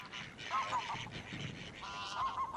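Several geese honk loudly and repeatedly at a hunting hide in the Somme, calls overlapping in a noisy chorus, some close and others answering from farther off.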